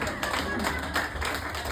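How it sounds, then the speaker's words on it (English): Scattered pity claps from a small audience at an English-language stand-up comedy show in Sofia, Bulgaria: a few thin, sparse hand claps over room murmur, brief and half-hearted, with a voice faintly under them. "Pity claps."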